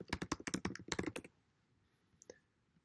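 Rapid burst of keystrokes on a computer keyboard, about a dozen close, crisp clicks in quick rhythm, then a pause and one last faint click.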